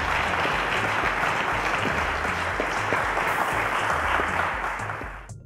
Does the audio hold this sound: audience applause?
yes